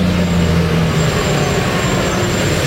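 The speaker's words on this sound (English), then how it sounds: "Passing by another tour bus." Large tour bus passing on a narrow old-town street beside the River Avon, a steady, loud low engine drone and road noise throughout with no talk.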